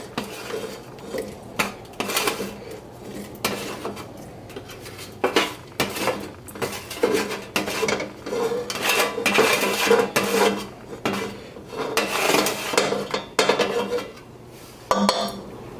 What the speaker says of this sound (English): We are going to scoop them into a pot.